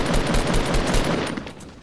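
Dense, continuous automatic gunfire in the Fortnite battle royale video game, loud and close, rattling rapid-fire bursts that fill the whole stretch and fade slightly toward the end.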